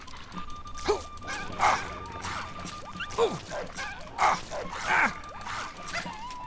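A dog in Fallout 3 barks, yips and whimpers in short repeated bursts about once a second, fairly close, with game ambience underneath.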